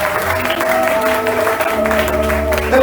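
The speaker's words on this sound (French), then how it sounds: "Et acclamez Jésus." Church congregation at an evening worship service applauding and cheering for Jesus, a loud, sustained wash of clapping and crowd noise with a sustained musical tone underneath.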